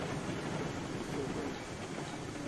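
A train rolling along in the video game Railroads Online makes a steady, rumbling run with a faint rhythmic rattle, heard alone at a moderate level.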